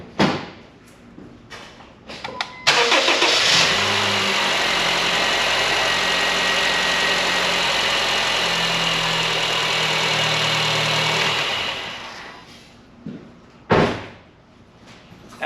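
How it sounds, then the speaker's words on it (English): A Honda Fit's 1.5L engine cranks and catches, then idles steadily for several seconds before shutting off, with door clunks and small handling knocks before and after; close and loud, with no talk. "go ahead and start your engine up for about 5 seconds or so."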